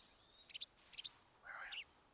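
Faint bird calls in Metal Gear Solid 3: two quick pairs of high chirps, then a longer warbling trill, all soft and quiet against a low background hiss.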